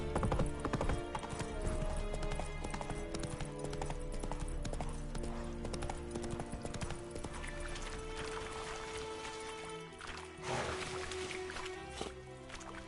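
Roach the horse gallops in The Witcher 3, hooves pounding in a quick continuous rhythm under ambient game sound, with a short neigh near the end.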